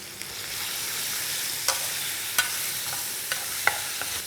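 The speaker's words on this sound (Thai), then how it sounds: "คลุกเคล้าเส้นกับซอสให้เข้ากันดี" Fettuccine being stir-fried with pesto sauce in a pan gives a steady, quiet sizzle with a few soft scrapes and clinks of stirring scattered throughout, with no talk.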